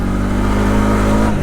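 Engine of a 2020 Honda Rancher 4x4 ATV revving steadily as it runs up through the gears, a loud, constant close-up drone with a slight pitch shift near the end.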